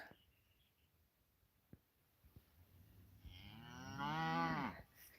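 Cattle on a farm where hay is being raked give a loud, drawn-out moo, rising and swelling over a couple of seconds after a few faint knocks, with no talking.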